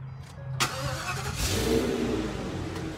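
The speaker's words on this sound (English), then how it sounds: "this here is 241, and it is our wildland truck. And we're gonna go ahead and start it up here." A wildland fire truck's engine cranks and fires up at a fire station, catching after a brief starter whir and settling into a steady, close, moderately loud running rumble.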